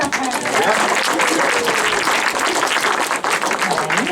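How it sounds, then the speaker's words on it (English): Audience at an evening talk in Towner, Eastbourne breaking into cheering and a round of applause, dense continuous clapping close and loud throughout. "please can we give a massive cheer and a round of applause"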